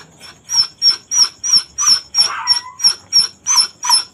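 A dog wails and whimpers in grief after its puppies died, a steady series of about eleven high, pained cries in regular rhythm, close and loud, with no talk.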